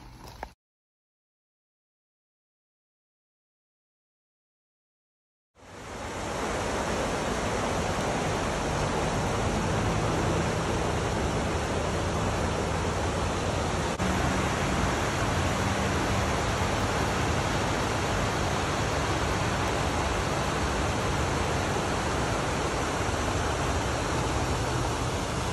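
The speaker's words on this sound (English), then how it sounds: "I am crossing over the left fork of Crooked Creek." Water flowing in the left fork of Crooked Creek, a loud, steady rushing roar that starts abruptly after several seconds of near silence and then holds constant, close by and alone.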